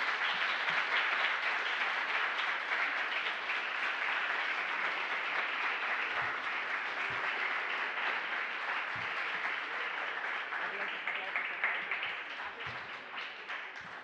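An audience applauds at the close of a talk on the graphic identity of the Mexico 1968 Olympic Games. Dense, steady clapping holds for the whole stretch and fades slightly toward the end.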